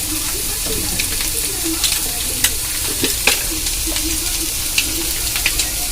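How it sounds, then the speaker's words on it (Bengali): Egg and potato filling with garlic, onion and chili powder stirred steadily in a frying pan, with a continuous low sizzle and frequent scraping clicks of the spatula close by. "এবার আমি এটা আস্তে আস্তে নাড়িয়ে নাড়িয়ে একটা পুর তৈরি করব।"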